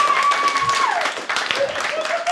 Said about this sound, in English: Clap it up for gay chat.